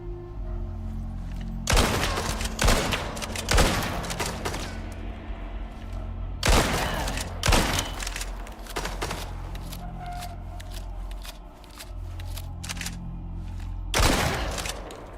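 Shotgun blasts in the video game Icarus, fired one at a time with pauses of a second or two between them, each a loud sharp boom with a brief ringing tail, with quieter game ambience in the gaps.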